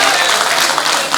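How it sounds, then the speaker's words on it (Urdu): Audience applause at an Urdu poetry mushaira, the Jashn e Qalam gathering, a dense steady wash of many hands clapping at once that fills the whole moment without a break. "آپ ان کا استقبال کیجئے تالیوں کی گونج میں۔"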